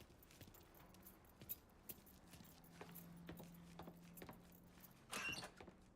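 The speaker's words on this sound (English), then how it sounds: "Lincoln, pick up the keys." Keys jingle faintly in Mafia 3 as they are picked up, with small metallic clinks and taps over a quiet hum in the scene.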